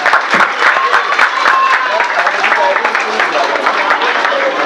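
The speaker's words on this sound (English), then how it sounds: "please give him a warm welcome with your clap" Audience at a World Polio Day event in Pakistan clapping loudly to welcome a speaker, dense continuous applause filling the room at close range, with murmured voices mixed in.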